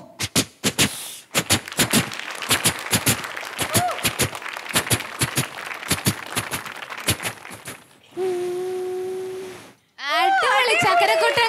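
On a comedy stage show, a mimicry artist imitates a train with his voice: a long run of rapid, rhythmic chugging bursts, then a sustained whistle-like tone, ending in a brief loud burst of noise.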